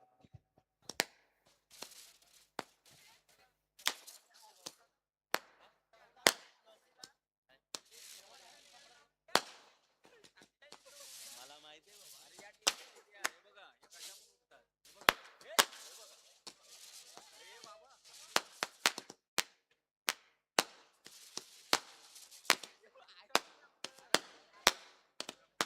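Firecrackers burst in irregular sharp cracks, some single and some in quick clusters, across a celebratory entry at an outdoor event, with a faint crowd murmur and background noise between the bangs.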